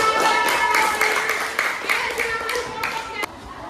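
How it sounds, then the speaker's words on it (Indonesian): Scattered hand claps from a small group at a coding and artificial intelligence training session, irregular and fairly close, mixed with people talking. "Tepuk tangan."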